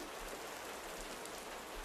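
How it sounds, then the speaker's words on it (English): Steady rain falls in a dense, even hiss with no breaks, a soft continuous wash across the whole stretch, heard alone without voices. "The rain had been falling for 3 weeks, steady, patient,"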